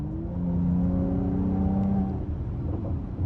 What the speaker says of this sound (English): I just love tapping the throttle and hearing the burbles.